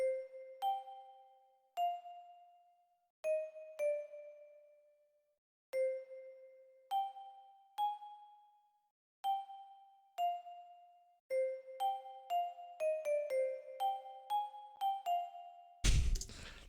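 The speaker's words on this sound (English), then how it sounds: "This is a bell I found in the Gods kit." Bell one-shot sample from a trap drum kit, played as a melody: clear, ringing struck tones repeating in a loose rhythm, picking up into quicker runs toward the end before a sudden loud burst cuts in.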